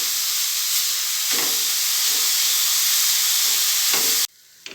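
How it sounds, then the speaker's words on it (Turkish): Carrots sauté in a pan over low heat for a walnut carrot tarator, giving a steady, close sizzling hiss with light stirring scrapes, then cutting off abruptly near the end. "kısık ateşte havuçlarımız e, güzelce yumuşana kadar e, kavuralım"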